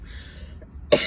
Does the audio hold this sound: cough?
yes